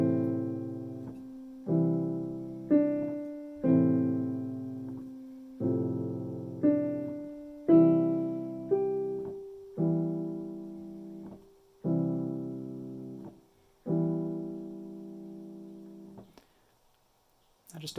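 Solo piano plays measures 5 to 8 of a piece, a steady sequence of sustained chords and notes, clear and close with each decaying before the next.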